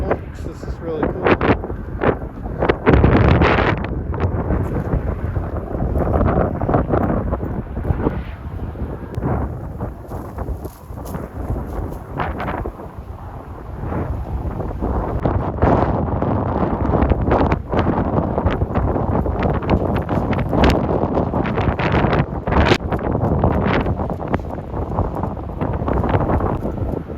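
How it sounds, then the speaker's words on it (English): Strong wind from a dust storm in the badlands buffets the microphone in loud, continuous gusts, with a voice speaking intermittently beneath the roar. "It's super windy, but there's a dust storm."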